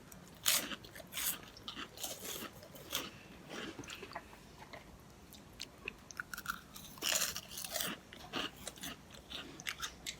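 Someone chews crunchy chocolate garlic bread with a rusk-like texture, close and quiet; bursts of crisp bites and crunching come and go, with softer chewing in between and no talking.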